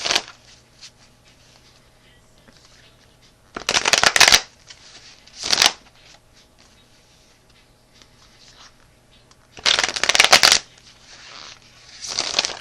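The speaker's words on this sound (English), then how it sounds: "I'm just going to shuffle the cards" Tarot cards shuffled in bursts: two long riffling runs and shorter flurries separated by quiet stretches, close and fairly loud, with a faint steady hum and light handling noises between.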